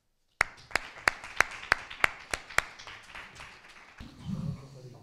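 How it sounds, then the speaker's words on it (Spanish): A handful of sharp, evenly spaced hand claps ring out close by in a lecture on freemasonry and anarchism in Riotinto and Nerva, about eight in a row, then fade into low room noise. "Os pediría un fuerte aplauso para él"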